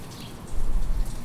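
Late-fall rain patters on a garden outside an open window, a soft continuous hiss with low rumbling beneath, steady and fairly close.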